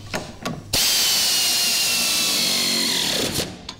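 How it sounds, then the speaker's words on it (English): Power tool driving a 10 mm socket to tighten the shackle bolts on a golf cart rear lift kit, one loud continuous whir of about two and a half seconds, close, after brief handling taps. "now the last step to do on this side is to tighten up our shackle bolts"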